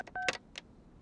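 Telephone keypad dialing tones for a prank call, a quick run of about four or five short beeps followed by a last tone, close and clear with no talking.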